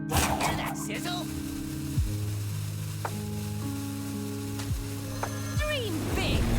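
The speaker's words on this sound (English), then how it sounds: "Hear that sizzle?" A sizzle effect from the Hearthstone video game plays among layered game tones, with falling pitch sweeps and chimes over a busy background.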